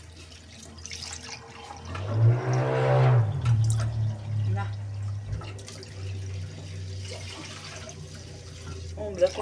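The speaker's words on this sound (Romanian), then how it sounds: "O să completăm cu apă." Water pours into a soup pot for caraway soup with eggs, a steady running splash for several seconds with a low hum underneath, while a person talks nearby.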